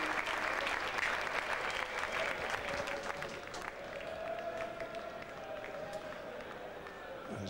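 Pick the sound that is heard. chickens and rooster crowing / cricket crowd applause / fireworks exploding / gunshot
cricket crowd applause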